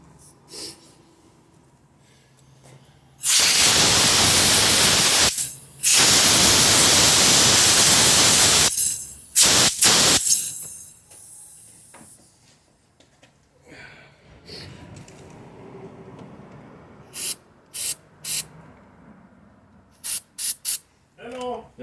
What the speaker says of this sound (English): then just gonna use the air hose.